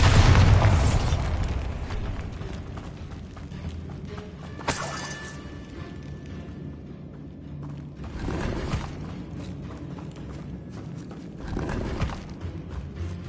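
The Bombarda spell goes off in Hogwarts Legacy with a loud, booming blast at the start. A second sharp burst follows, then a rumbling game soundscape.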